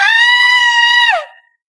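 A woman lets out one loud, sustained high-pitched scream in a dramatic scene at a party, holding it for over a second before it breaks off abruptly.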